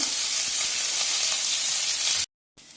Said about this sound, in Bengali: কারি পাতাগুলো কেটে নিয়েছি ছোটো ছোটো করে, এগুলোকে হালকা একটু ভেজে নেব